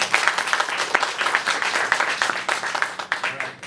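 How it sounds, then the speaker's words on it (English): Warm applause from an audience at a BlackBerry product event in Manila, dense steady clapping filling the whole stretch, fairly loud and close, with no speech over it. "Please give him a warm applause, please."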